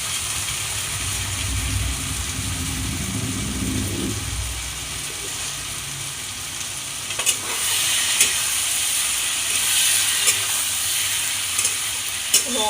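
Soy sauce sizzles in a hot frying pan while egg chili cooks, a steady bright hiss throughout with a low bubbling rumble early on and a few clinks of stirring later.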